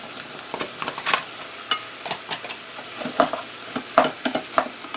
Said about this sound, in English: So we'll add the mushrooms. First the oysters and the shiitakes.